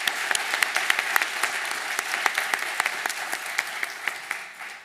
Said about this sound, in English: How about a round of applause for our peers?